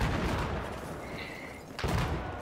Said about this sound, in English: Let me take a pot shot before you kill him.